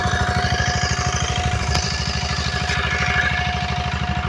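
A tractor with a rotary tiller working soil for lawn-grass sowing, its engine chugging in a steady, rapid rhythm with a loud continuous mechanical drone that holds throughout, briefly shifting pitch midway.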